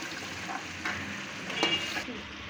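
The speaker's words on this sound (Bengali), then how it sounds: "ভেন্ডিগুলি দিয়ে দিলাম, এখানে পাঁচফোড়নের গুঁড়ো দিয়ে দিলাম, ভাজা হয়ে গেছে।" Okra fries in a pan with panch phoron powder, giving a soft, steady sizzle broken by occasional scraping stirs, fairly quiet and close.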